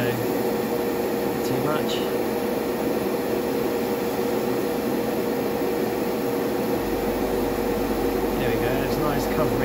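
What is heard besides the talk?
airbrush spraying paint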